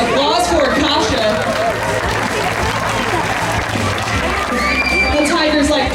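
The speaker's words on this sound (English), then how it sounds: "How about another big round of applause for Kasha?" An audience claps and cheers for Kasha the tiger after a swimming and diving show at Discovery Kingdom, a loud, steady wash of applause with crowd noise and scattered voices throughout.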